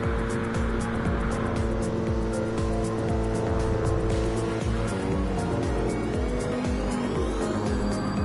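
AMG GT race cars in a sim racing video game roar continuously with high, revving engine tones that shift with gear changes, plus occasional tire squeal, loud and sustained throughout.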